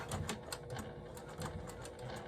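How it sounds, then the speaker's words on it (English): A sewing machine back stitching a wristlet strap runs in quick rhythmic bursts of needle clatter, close and fairly loud, with brief pauses between runs and no talking. "I back stitch a little bit"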